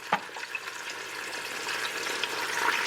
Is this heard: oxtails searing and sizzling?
yes